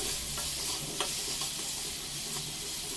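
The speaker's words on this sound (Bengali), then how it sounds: "আলুতে হলুদ আর লবণ দিয়ে এটাকে ভেজে নিচ্ছি" Potato pieces frying in oil with turmeric and salt in a kadai, a steady close sizzle with occasional stirring scrapes and small pops running throughout, no voices.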